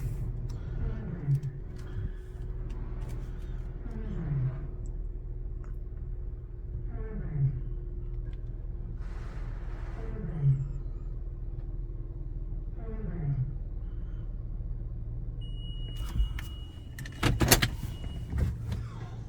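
Steady mechanical rumble of a PDQ Tandem soft-touch automatic car wash at a Shell gas station in Gilbert, Arizona, with repeating whooshing passes every few seconds, then a burst of spraying and hissing near the end.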